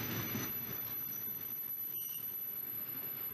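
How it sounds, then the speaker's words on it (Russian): The last car of a Mongolian passenger train rolls along in motion, giving a steady, faint rumble of wheels and carriage noise with no voices. "Вот мой последний вагон монгольского поезда"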